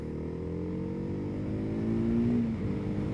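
TVS Apache RR 310 sport motorcycle accelerating in sport mode, a steady engine drone with rising pitch as revs climb, continuous and close throughout without talk.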